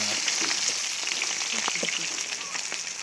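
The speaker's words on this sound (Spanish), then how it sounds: "Que se fría bien, que se fría, así Crocantito crocantitos va a salir" Cabinza fish frying in hot oil in a pan at home, a loud, steady crackling sizzle close up with faint voices beneath.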